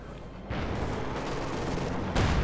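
Dense gunfire and explosions from the Company of Heroes 2 real-time strategy game, rumbling bursts of heavy fire that swell and hit hard near the end, with no talk over them.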